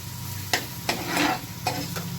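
Oil sizzles and hisses in a pan as ginger, green chilli and onion hit it for tempering saag, punctuated by a few sharp spoon scrapes and clinks against the metal.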